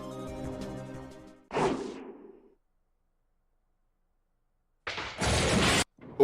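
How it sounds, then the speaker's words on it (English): Thunder in the Higurashi video game cuts off the background music with a sharp crack that decays over about a second. After a stretch of silence, a second loud, rough burst rumbles in. "it's thunder"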